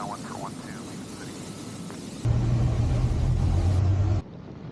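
A light aircraft touches down on runway 12 at Mason City, with steady broadband engine and wind noise suddenly giving way to a louder low rumble of wheels rolling on the runway before it cuts off.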